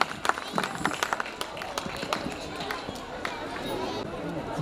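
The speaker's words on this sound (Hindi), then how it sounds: "जोरदार तालियां इस मैग्निफिसेंट परफॉर्मेंस के लिए।" Applause from the audience at a school annual function and silver jubilee celebration, scattered claps rising and thinning against crowd chatter and shuffling, fairly faint and uneven in density.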